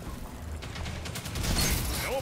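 Gunfire in a Spanish-language multiplayer shooter match with zone captures, a burst of shots rising into a louder, denser volley toward the end, heard close and sharp over game ambience.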